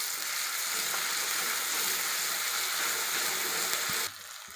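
Garlic and green chili paste frying in a hot pan, a loud continuous sizzle heard up close while it is stirred, with the hiss dropping away sharply near the end.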